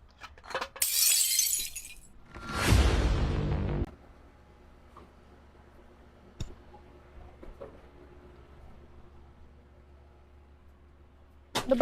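Glass shatters loudly indoors, a sharp burst followed by a second longer crash of breaking shards, then a few faint scattered ticks and clinks as pieces settle in a quiet room.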